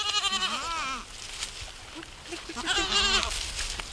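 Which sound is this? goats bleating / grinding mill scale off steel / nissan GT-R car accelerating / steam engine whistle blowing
goats bleating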